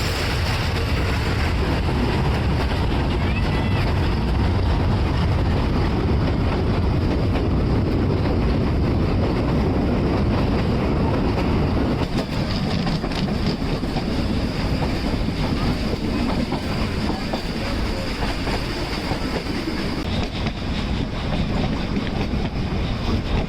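The Nilgiri Mountain Railway toy train runs through Ooty, a steady, dense rumble of wheels and carriages that rolls on without pause.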